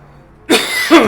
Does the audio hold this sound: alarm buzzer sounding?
no